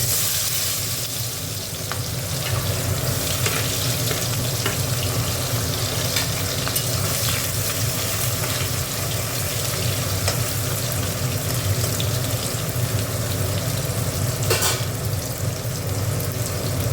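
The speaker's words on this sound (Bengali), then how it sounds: "পেঁয়াজটা একটু ভাজা ভাজা হোক।" Onion frying in hot oil with cinnamon and cardamom, a steady loud sizzle running throughout without any voices.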